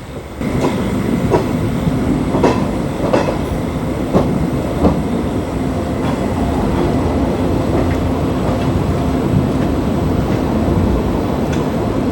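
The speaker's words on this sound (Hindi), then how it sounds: "एटा 1 नंबर प्लेटफॉर्म भीतर के ट्रेन जाऊे" A Sonepur–Bhubaneswar line train rolls along the platform at a station, a loud continuous rumble with faint clicks from the wheels over rail joints, heard close throughout.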